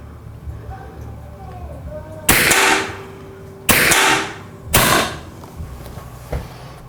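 Edgun .357 airgun fired from a tethered air tank: three loud, sharp shots, each with a brief ringing tail, spaced about a second apart, close by.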